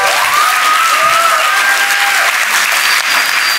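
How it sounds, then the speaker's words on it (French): Audience applause at a kids' game show, a dense, steady wash of clapping throughout with a few cheers and whistles on top. "Un tonnerre d'applaudissements pour eux."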